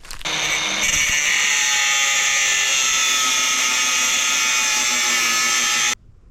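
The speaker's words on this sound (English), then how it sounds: "I've just got the grinder out and cleaned up each end the best I could." An angle grinder works over the cut ends of an old, weathered crab trap, giving a loud, steady high-pitched whine that starts abruptly, runs without a break for several seconds, then cuts off.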